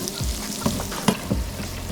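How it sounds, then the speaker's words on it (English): Butter melting in a frying pan with a steady sizzle and a few soft scrapes as it is basted, ahead of scallops in chipotle compound butter, close and fairly loud, no talking. "Put a little butter in the pan. Get it nice and melted."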